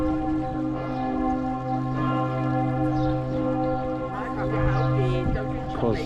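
Church bells ringing in Freiburg city center, loud, rich sustained tolling with layered overtones, heard close on a city walk with faint street sounds beneath.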